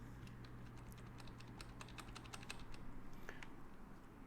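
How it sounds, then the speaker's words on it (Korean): Computer keyboard keys, Ctrl and the spacebar among them, pressed while working in Photoshop: a quiet run of light, irregular clicks close by, with a soft steady hum underneath. "컨트롤과 스페이스바를 누르고 클릭 드래그 하시면 되죠"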